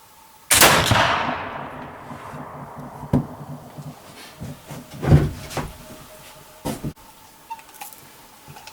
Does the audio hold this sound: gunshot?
yes